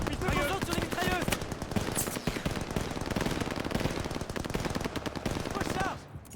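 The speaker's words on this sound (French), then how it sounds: "Éliminez-moi cette mitrailleuse!" Sustained machine-gun fire rattles loudly and nearly nonstop in a Call of Duty Vanguard battle, dense overlapping bursts mixed with other gunfire and shouted voices, fading out near the end.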